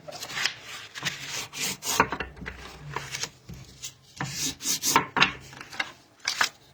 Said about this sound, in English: So I think I'll use a bone folder here.